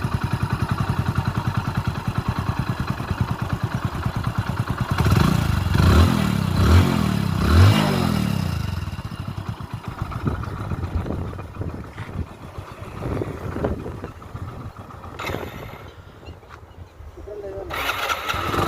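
A motorcycle engine idles at a village mechanic's shop after an engine oil change, then is started and revved in several sharp bursts before settling into a steady running rumble, with a voice speaking faintly.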